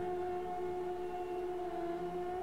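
An ambulance siren holds steady tones under faint background noise, moderately loud, with no talking.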